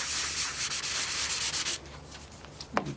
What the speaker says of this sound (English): I'm gonna have to get a fresh piece of sandpaper.